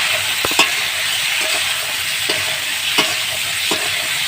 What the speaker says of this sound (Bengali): তো লবণ দিয়ে একটু নেড়ে দিতে হবে।